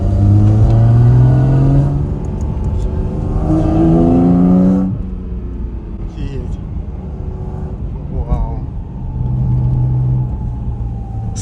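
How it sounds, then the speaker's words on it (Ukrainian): A 2025 Porsche 718 Cayman GT4 RS engine revs up and down in deep, throaty surges from the exhaust, rumbling between bursts, with people talking over it. "Це вихлоп. Зараз вона має бути м'якша."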